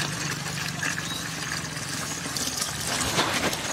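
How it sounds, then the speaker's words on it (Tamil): Reduced boiled milk pours steadily into a pot of tender coconut payasam with a continuous splashing trickle, close by, growing slightly louder toward the end. "சுண்ட காய்ச்சின பாலை சேர்த்துக்கலாம்."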